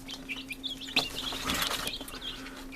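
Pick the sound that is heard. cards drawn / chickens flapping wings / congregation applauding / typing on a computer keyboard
chickens flapping wings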